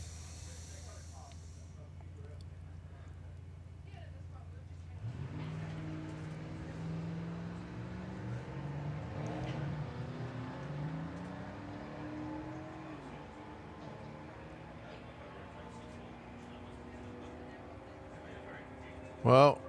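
A Merc and a Ford Mustang make a drag race run at the STP Springspeed Nationals, their engines rising in pitch as they accelerate away and fade, with a commentator talking over the run.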